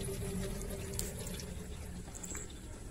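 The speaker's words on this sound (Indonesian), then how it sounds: "Di sini ada suara gemericik seperti air menetes." Trickling, gurgling water inside a single-door LG refrigerator that lights up but no longer cools after a recent repair; a steady close burble of liquid with small drip-like ticks, no talk.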